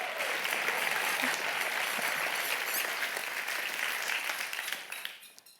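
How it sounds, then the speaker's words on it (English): A live audience at an Ada Lovelace Day event applauds the host, a sustained wash of clapping that holds steady, then thins and fades out near the end. "please join me in a round of applause for Sally"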